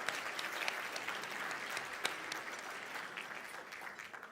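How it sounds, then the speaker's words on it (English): An audience at a Champions of Change livestream event applauds, a fairly distant, steady wash of many hands clapping that holds evenly throughout, fairly quiet overall. "Yes, please give her a big round of applause."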